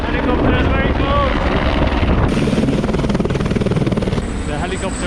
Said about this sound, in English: The helicopter landing is just here. It's very noisy and very busy.